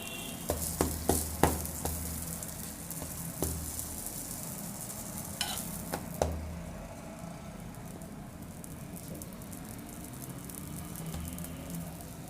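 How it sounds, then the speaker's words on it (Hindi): Shawarma bread warming in oil on a hot pan gives a steady soft sizzle with a few sharp crackles and clicks early on, close and continuous, with no talking. "अब मैं शवारमा ब्रेड को ऑयल लगा के गरम करूंगा कुछ इस तरह"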